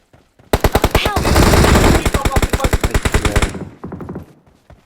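Loud, close burst of rapid automatic gunfire in a video game, a long string of evenly spaced shots that trails off into a few softer echoes.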